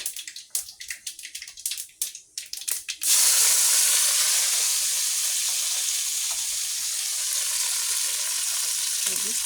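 Chopped raw onion, tomato and green chili hit hot oil already tempered with black mustard seed, cumin and five-spice, bursting into a loud, steady sizzle after a few seconds of clattering and scraping.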